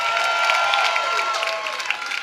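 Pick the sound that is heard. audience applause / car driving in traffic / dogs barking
audience applause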